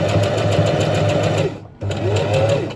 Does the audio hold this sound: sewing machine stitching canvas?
yes